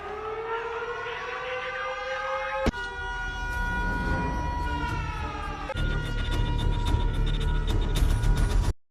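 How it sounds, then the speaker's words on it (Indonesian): Tsunami warning siren sounding in a disaster film, a loud, sustained wailing tone with shifting pitch, cut by sharp impacts and rumbling noise building beneath it. "sirine penanda bahaya tsunami pun berbunyi"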